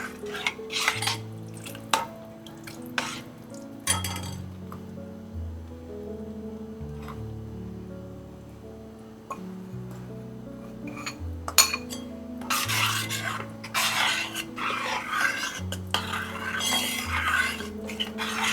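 Rice flour is stirred into water in a pot for a rice-flour ukad, with a utensil scraping and clinking against the metal in irregular strokes over a steady background tone.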